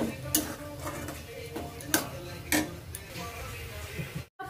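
A spatula stirs lote fish chop filling in a pan over and over, giving rhythmic scraping clinks about every half second, close by. Soft background noise sits underneath.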